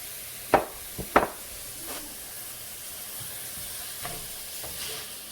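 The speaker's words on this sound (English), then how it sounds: "So you just want to let those fry up for a few minutes," Garlic frying in a pot as the base for chicken tortilla soup, a steady low sizzle with a few sharp stirring scrapes near the start and softer ones later, no voices.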